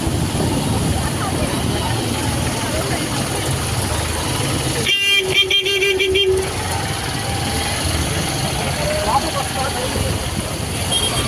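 Car horns honking in a dense traffic jam, a cluster of loud overlapping toots for a couple of seconds amid constant engine rumble, with someone talking over the traffic.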